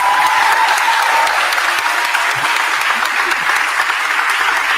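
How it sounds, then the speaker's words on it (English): A crowd applauding steadily at a mayor's speech in Philadelphia, a dense wash of clapping that stays even throughout, with faint voices underneath. "Can you give them a round of applause?"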